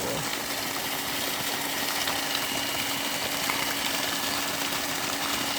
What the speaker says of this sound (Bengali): আমাদের এখানে পুকুরে জল দেওয়া হচ্ছে, যে মোটর থেকে জল দিচ্ছে।